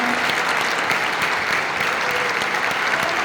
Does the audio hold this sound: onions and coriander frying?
no